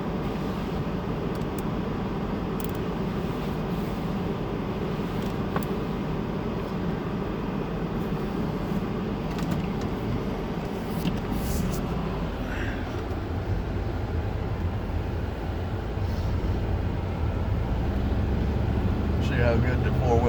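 A vehicle locked in four-wheel drive pushes through snow, its steady low engine and drivetrain rumble running throughout with no break.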